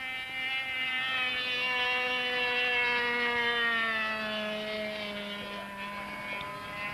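A radio-controlled model aerobatic aircraft at a 1971 pattern championship flies inverted, its small engine a steady buzzing whine that slowly drops in pitch as it passes at moderate distance.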